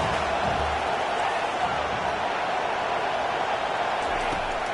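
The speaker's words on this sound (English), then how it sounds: "Listen to this crowd just shaking the girders of this place" A dense, steady roar from a packed stadium crowd at a college football game, filling the whole space at a constant, loud level with no breaks.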